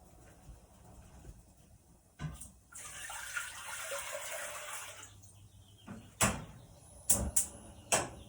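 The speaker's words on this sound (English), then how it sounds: "You put it at the bottom of your pot and you're gonna fill it with water." Tap water runs into a cooking pot over a steam rack for steaming, a steady pouring stream for a few seconds, followed by scattered knocks and clanks of the pot being handled.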